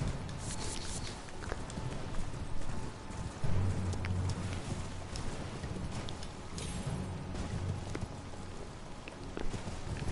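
Horse hooves clip-clop at a steady walking pace in the video game Elden Ring, moderately loud amid soft rain-like ambient noise, with no talking.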